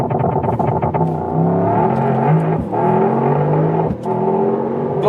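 Mercedes-AMG GT 63 in Sport Plus mode doing a race-start launch slightly uphill: a loud engine roar climbing in pitch through several quick gear changes, each marked by a brief dip before pulling hard again.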